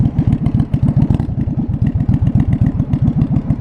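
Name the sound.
1982 Yamaha Virago 920cc motorcycle engine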